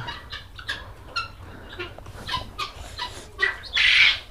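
Quail at a quail farm give short chirps and squawks scattered throughout at close range, with a louder, harsher call rising near the end.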